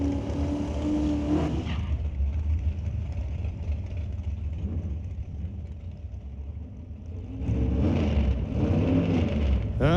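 A Chevrolet Monza drag car launches off the line at a drag strip, a loud sustained engine roar that dips briefly then swells again, heard from trackside without any voices.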